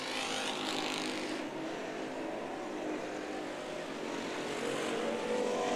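Street stock race cars roaring around a dirt speedway, a continuous dense engine drone from several cars at moderate distance, with no pauses.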